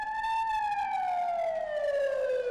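A loud, sustained emergency warning siren inside a tunnel under construction in Inje wails steadily, its tone sliding slowly downward, with no other sounds.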